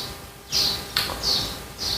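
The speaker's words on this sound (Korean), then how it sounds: "새소리가 아주 분주하게 들리고 있습니다." Birds chirp busily on a rainy morning, with four bright, high call bursts in quick succession over a quiet, steady background.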